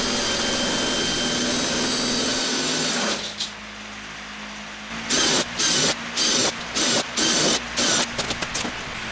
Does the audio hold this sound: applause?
no